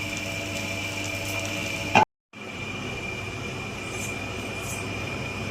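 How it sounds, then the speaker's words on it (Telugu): A wet grinder churns soaked lentils into batter for chillu garelu, a loud, steady mechanical whir with a faint tonal hum that cuts out for a moment partway through and then resumes. "పప్పు బాగా మెత్తగా అయ్యేదాకా గ్రైండ్ చేసుకుందాం."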